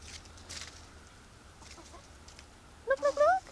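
A chicken gives a short burst of clucking near the end, close and fairly clear after a quiet stretch of faint outdoor background.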